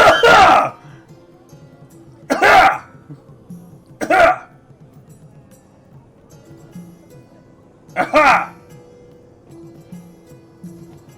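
A person imitates a butler's polite cough with a few short, sharp throat-clearing coughs spaced several seconds apart, close to the microphone and loud, with quiet between them.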